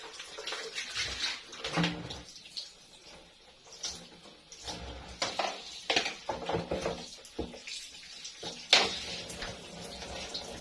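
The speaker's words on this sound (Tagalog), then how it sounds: "Hugasan ko lang yung mga kailangan hugasan. Yung mga bawang" Garlic and other cooking ingredients are rinsed under running tap water, with soft splashing, trickling and occasional clinks of dishes, fairly quiet and close by.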